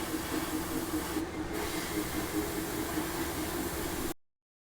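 An airbrush sprays paint onto the fenders of a 1/35 scale Sherman tank model: a steady, even hiss runs unbroken for about four seconds, then cuts off abruptly into silence.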